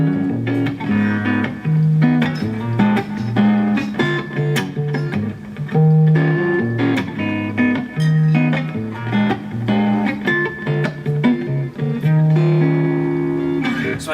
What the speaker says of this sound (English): if I add a ton of bass and I take away a lot of treble, then I'm going to get something that sounds like this